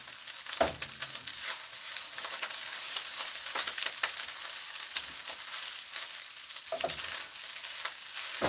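Thanksgiving leftovers with leaves are stirred in a frying pan, a quiet steady sizzle broken by repeated scraping strokes of a utensil.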